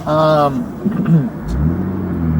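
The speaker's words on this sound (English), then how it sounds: "Here's another car with no plates." A car with no licence plates drives past on a road, its engine rumble swelling up close after a brief voice at the start.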